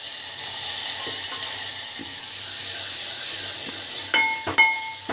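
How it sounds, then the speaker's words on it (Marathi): Asafoetida, chilli powder and coriander leaves fry with a soft, steady sizzle in a pan, broken near the end by a couple of sharp metallic clinks from the stirring spoon. "थोडंसं हलवून फ्राय करून घ्यायचं."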